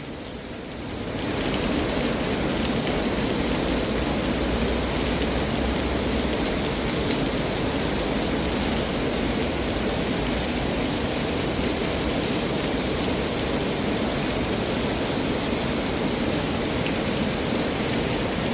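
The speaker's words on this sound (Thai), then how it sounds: "รอจนกว่าฝนจะหยุด" Heavy rain starts after a brief moment and then pours steadily, a dense, even hiss of drops drumming on surfaces close by.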